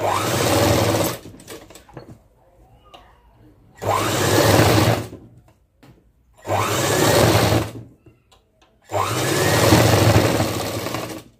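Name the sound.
sewing machine stitching frock sleeves to shoulders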